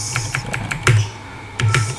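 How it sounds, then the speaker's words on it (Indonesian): A name is typed on a computer keyboard: close, crisp keystrokes tapping in an uneven rhythm, with a couple of louder clacks and no voices. "caranya adalah Kia harus mengetik nama dulu"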